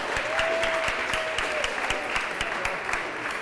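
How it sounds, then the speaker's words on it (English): Crowd at a sports finals event applauding the Open B Male interstate winners, dense sustained clapping with some cheering, steady throughout. "can I please have a big cheer for the Open B Male interstate winners?"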